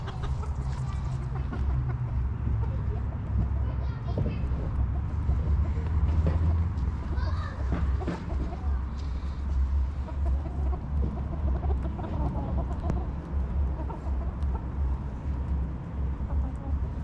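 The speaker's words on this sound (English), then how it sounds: "We have all the chickens, that's right, Em." Chickens in a coop cluck and murmur continuously over a low steady background hum, several birds near and far calling in overlapping bursts, with brief faint voices in the mix.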